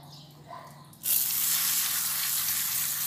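A steady, loud hiss of water sprayed onto a K&N drop-in air filter from a Ford Fiesta Mk7 starts abruptly after a quiet moment and continues without a break to the end.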